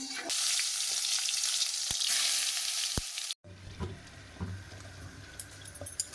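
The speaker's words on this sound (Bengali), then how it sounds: "কয়েকটা লঙ্কা ভাজা করছি" Steady sizzling of green chillies frying in hot oil in a pan, close and continuous, with a couple of faint clicks; the sizzle cuts off abruptly partway through, leaving quieter room noise.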